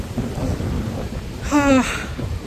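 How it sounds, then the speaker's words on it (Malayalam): Steady rain patters with a low rumbling wash, and a brief faint voice-like tone rises over it midway. "ഇവിടെ മഴ മഴ മഴ നമ്മള് ഇവിടെ എത്തിയ മുതൽ നല്ല മഴ"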